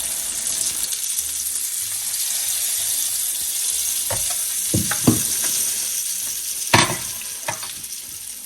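Unniyappam frying in oil in the cavities of an appam pan: a continuous close sizzle and bubbling, with several sharp metallic taps and clinks late on, and no voices.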